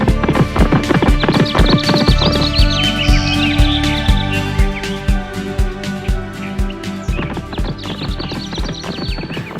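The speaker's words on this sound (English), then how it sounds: "The horse took off striding." A horse galloping in a race in an animated kids' story, loud rhythmic hoofbeats thudding in quick steady succession, with a whinny and bright chirping birds layered over the running.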